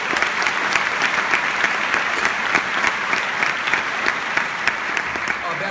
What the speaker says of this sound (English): could you just give them a big round of applause?